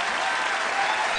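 Audience applause for a duet performance on a Taiwanese singing competition show, a dense, steady wash of clapping filling the whole short stretch with no voices.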